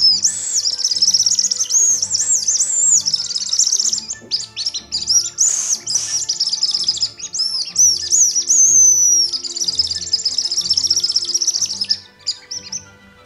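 A hand-blown fox lure mimics a distressed bird, producing a rapid, high-pitched chirping squeal in long, steady bursts with brief pauses, loud and close.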